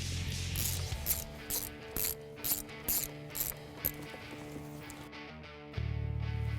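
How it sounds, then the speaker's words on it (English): A ratchet clicks in quick repeated bursts as it tightens the supercharger pulley bolts on a 2015-2017 Mustang GT fitted with a Roush Phase 1 supercharger kit, close up, then stops. "Now we're going to hold the pulley and torque them between 8 and 12 Newton meters."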